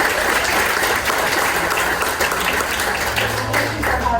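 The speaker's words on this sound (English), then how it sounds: "Let's get a round of applause for Rolando." A crowd at a gubernatorial candidate forum in Palm Beach applauds Rolando, a broad, sustained wash of clapping filling the room at full strength, with a faint low hum underneath toward the end.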